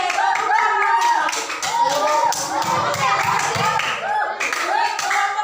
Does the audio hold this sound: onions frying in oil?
no